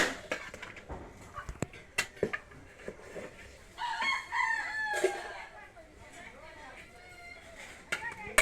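A rooster crows loudly at close range amid scattered clucking chickens near a village goat shed, with sharp knocks and people talking around it.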